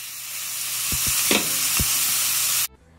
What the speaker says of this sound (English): that loud sizzle is exactly what you're looking for when you're frying your steak